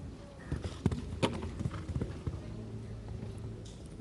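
Horse hoofbeats on a show jumping course at an international equestrian event, irregular thudding clip-clops of a single horse at moderate distance, with faint commentary murmuring underneath.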